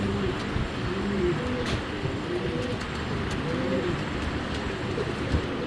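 Racing pigeons, a grizzle pair among them, coo repeatedly in soft, overlapping low calls close by against a steady background murmur.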